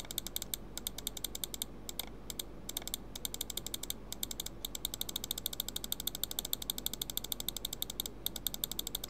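Hard, rapid computer mouse clicks from a right-handed mouse in a banana clicker game, a dense, steady stream of sharp close taps with a faint constant hum beneath and no talking.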